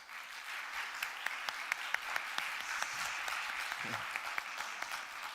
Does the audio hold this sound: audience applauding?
yes